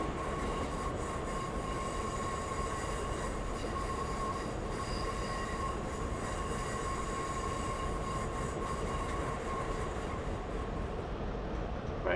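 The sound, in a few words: HST train running, from the video game Train Simulator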